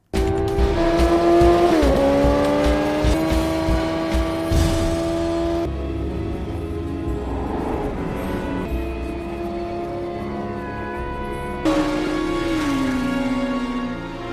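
Film race scene between a father and son on motorcycles in Biker Boyz: loud, continuous engine roar with rising and falling pitch, tire screeches and a vehicle passing by, shifting between close and distant shots without speech.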